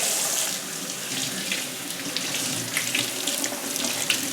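Hot water runs steadily from a kitchen tap while a towel is pushed through the stream, a close, continuous splashing hiss with small bursts of spatter and no talk.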